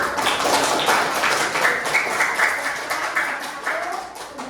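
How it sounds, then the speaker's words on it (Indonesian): A group of students claps together in a classroom, a steady burst of many hands patting for several seconds with faint voices mixed in. "Ayo kita beri tepuk tangan"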